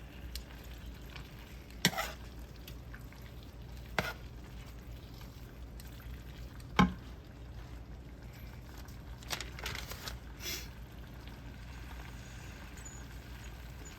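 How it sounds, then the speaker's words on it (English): A pan of beef stroganoff sauce stirred as it comes to a boil, with a soft steady bubbling simmer and a few sharp spoon knocks against the pot, quiet and close. "Let's just stir this up and let it come to a little boil."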